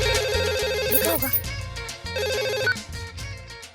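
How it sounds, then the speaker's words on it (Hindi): A telephone rings in two short electronic bursts with a pause between them, set against background music indoors. "मालती बोलो, बार बार फोन क्यों लगा रही थी?"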